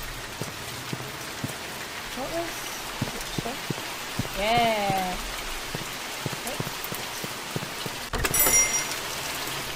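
Steady rainfall from the horror video game The Mortuary Assistant patters throughout, with scattered clicks and clunks over it and someone speaking briefly near the end.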